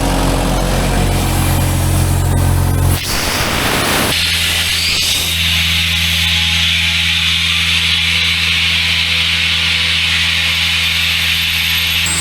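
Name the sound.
air compressor filling a 240 gallon air tank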